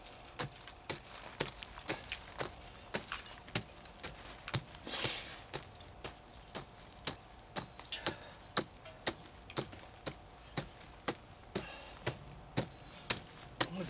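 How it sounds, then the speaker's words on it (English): A hammer taps on garden soil in a raised bed in a brisk, even rhythm of about two light knocks per second. The taps are close and continue throughout, with no talking. "just taking my hammer"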